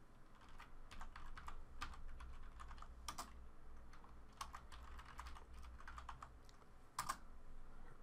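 Keystrokes on a computer keyboard as a new admin password is entered on a Cisco ISE system, irregular clusters of close, crisp taps over steady low hum, no talking.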